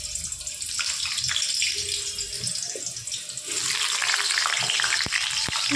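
Potatoes dropped into hot oil with dried chillies and bay leaf, a rising bright hiss and crackle of frying after a quieter start, close up with a couple of sharp utensil taps near the end, no voices.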